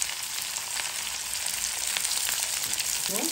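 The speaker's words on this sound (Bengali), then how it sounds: "দিয়ে দেবো একটু পাঁচফোড়ন, দিয়ে দেবো পেঁয়াজ, কাঁচামরিচ" Panch phoron, onion and green chilies sizzle in hot oil with dried red chilies, a dense, constant crackling hiss close by, with a brief scrape of stirring near the end.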